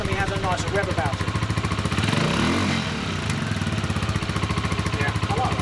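A 125cc custom cruiser motorcycle with twin exhausts revs and idles with a steady, throbbing exhaust note, loud and close, rising briefly in the middle.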